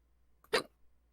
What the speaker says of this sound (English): Not to fix the No. hiccups or anything.